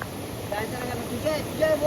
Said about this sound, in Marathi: गायच पाण्याचं प्रेशर खूप जास्त वाढलं